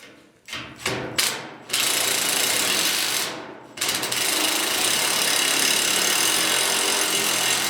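A screwdriver works on a part of an old trailer being restored: a few sharp clicks and scrapes, then a loud, continuous grinding rasp up close.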